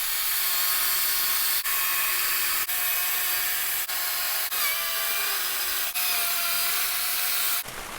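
A chainsaw cuts into a snowman block while carving, giving a continuous loud, high-pitched buzz broken by several sharp brief dips as the blade bites and pulls through.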